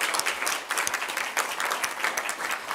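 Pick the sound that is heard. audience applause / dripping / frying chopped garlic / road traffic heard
audience applause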